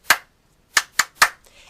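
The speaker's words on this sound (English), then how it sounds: "you'll hear me clap like this." A teacher claps her hands in a classroom as a signal: one sharp clap, a pause, then three quick claps in a row, close and crisp in otherwise quiet surroundings.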